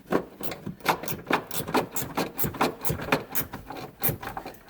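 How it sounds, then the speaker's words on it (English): Rapid repeated clicking of a ratchet wrench cranking down the battery hold-down on a 2009 Volvo S60, close and steady with about nine quick ratcheting strokes and no talking. "Ratchet wrenches"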